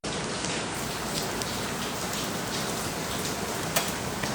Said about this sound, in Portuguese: Não sei se vocês estão ouvindo aqui o chiado da chuva